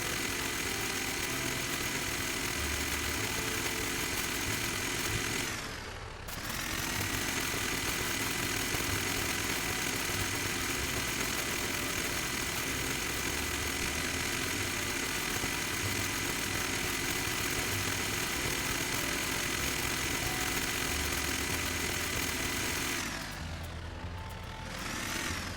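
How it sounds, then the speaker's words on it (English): Tractor engine in the farming video game Dinkum, running as a steady loud drone with a low rumble, briefly dipping twice before resuming, no talk. "And now we're going to take the tractor and plow up the land."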